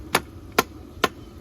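Three evenly spaced, sharp whacks of a hammer striking wood on a kindling splitter, close and loud, with brief quiet between each blow.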